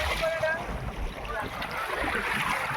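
Steady wash of water and wind around a moving boat on open sea at Ariyaman Beach, with voices faintly in the background.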